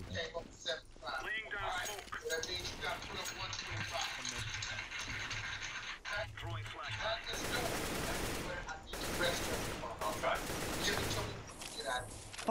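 Gunfire in the video game CS:GO on the Mirage map, with dense bursts of automatic weapon fire and rapid shots layered under ongoing voice chat, intensifying in the second half.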